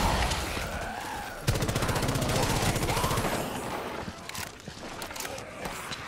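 Rapid automatic gunfire in the Rainbow 6 Siege video game, aimed at balloons, rattles in a fast burst through the middle, loud and close, surrounded by other game noise.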